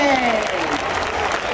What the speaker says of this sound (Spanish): Y que sigan esas palmas para Moras